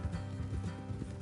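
Horse hooves clip-clop in a quick, steady rhythm in Red Dead Redemption 2, close and fairly soft, with no talking.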